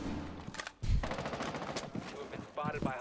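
Rainbow Six Siege gunfight with sharp, rapid gunshots and short automatic bursts. Shots are close and loud, and a voice talks between and over the shots.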